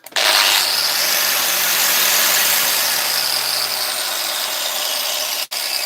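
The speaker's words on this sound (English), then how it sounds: "Aye, them grinders." A cheap Hikoki angle grinder runs continuously with a steady high-pitched whine in a repair workshop, winding down slightly near the end before a brief cut-off.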